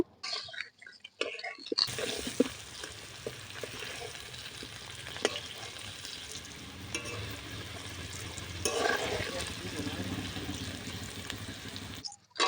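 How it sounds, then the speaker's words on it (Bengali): Potato pieces frying in a pan give a continuous sizzle and crackle with occasional stirring scrapes and clinks, fairly close, starting after a brief quiet moment and stopping abruptly at the end, with no talking. "আলু ভাজা হয়ে গেছে এখন তুলে নেব"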